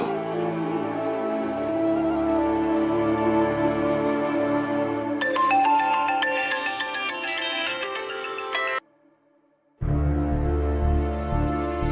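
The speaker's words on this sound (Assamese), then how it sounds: "অনুৰাগে ইমান ৰাতি মোলৈ কিয় ফোন কৰিছে?" An incoming-call phone ringtone plays loud and alone, a steady repeating melody for about nine seconds before cutting off; after a brief silence a low tone resumes.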